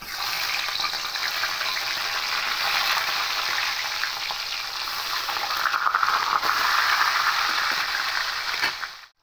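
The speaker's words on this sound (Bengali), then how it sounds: "এবার এই তেলের মধ্যে মাছের মাথাগুলোকে ভেজে নেব।" Fish heads rubbed with salt and turmeric fry in hot oil, a steady loud crackling sizzle that runs unbroken and close for the whole stretch, with no voices over it.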